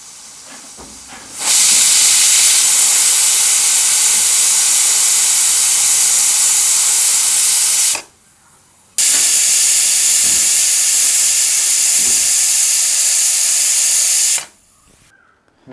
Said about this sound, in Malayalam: അപ്പോൾ നമ്മൾ നമ്മുടെ കുക്കർ തുറന്ന് നോക്കാം. നമ്മുടെ 2 വിസിൽ അടിച്ചായിരുന്നു.